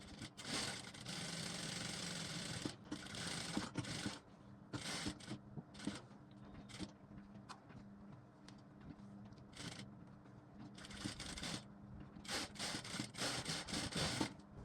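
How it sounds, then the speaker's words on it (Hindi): A sewing machine runs stitch after stitch, putting a double seam on a long garba blouse, sounding in quiet bursts of whirring broken by short pauses, with no talking. "अब इसमें आप डबल सिलाई मार लीजिए"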